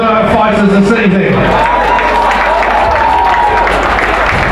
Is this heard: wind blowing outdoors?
no